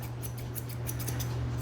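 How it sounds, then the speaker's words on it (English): Grooming scissors snip through a small dog's fur in quick, close, rhythmic cuts, about a dozen crisp clicks over a steady low hum. "then I'm gonna use these scissors here"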